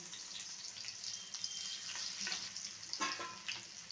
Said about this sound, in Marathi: तेल टाकलेलं आहे आता आपण याच्यामध्ये मिरची घालू